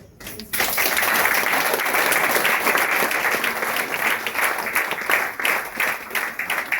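Loud sustained applause from a crowd greets a speaker at a women's program, starting abruptly and continuing as a thick, even wash of clapping.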